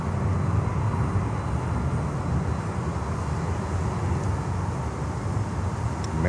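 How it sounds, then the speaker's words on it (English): A Boeing 737 taxiing at Miami airport, its engines a steady, broad rumbling hum at moderate distance, continuous and unchanging with no voices. "this is a 737 that is taxiing"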